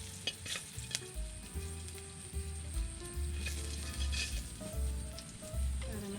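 Dried fish (daing) fries in hot oil with a steady crackling sizzle, scattered pops and a low background rumble, nearby and moderately loud.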